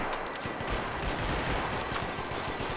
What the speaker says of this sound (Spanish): llevar tanto tiempo escuchando disparos